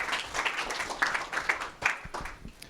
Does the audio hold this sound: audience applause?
yes